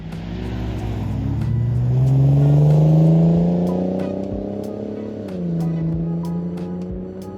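A 2002 Lexus IS300 with a 2JZ engine and cheap aftermarket exhaust revs up to a throaty roar, eases down, then rises again, loud and close with a deep rumbling drone.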